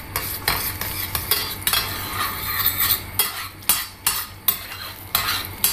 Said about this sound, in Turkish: yarım su bardağı su ilave ediyorum ve salçayı güzelce açık sos haline getiriyorum